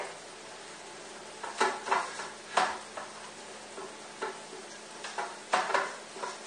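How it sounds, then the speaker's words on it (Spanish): Oil being brushed onto the inner pan of a cooking pot makes a series of soft, close swishing strokes and light taps in irregular bursts over a quiet background, with nobody talking. "primero vamos a pincelar un poquito la cubeta. Hay que pincelarla igualmente, ¿eh? Pincelamos así con aceite."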